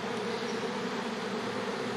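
Dense, steady buzzing of many honey bees swarming around an open hive in June, a close, continuous drone that fills the whole stretch without pause and with no voices.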